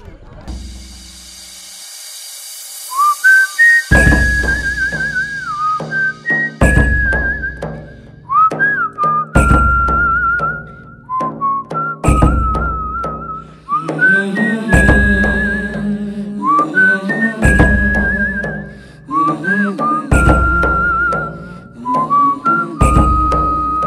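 A melodic whistled tune from a song recording, a Hindi film song, is performed by a person sitting on a boat, with clear sustained notes and slides phrased between rhythmic percussive backing beats, close and prominent throughout.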